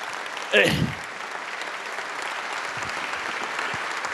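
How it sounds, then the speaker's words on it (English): Audience clapping at a city revitalization announcement in Owensboro for the Alorica project, a moderate, fairly distant patter of applause from a gathered crowd after a brief louder burst near the start. "Give yourself a round of applause."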